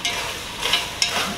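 Chicken pieces are stirred and fried in a pot, scraping strokes over a steady sizzle, close and fairly loud.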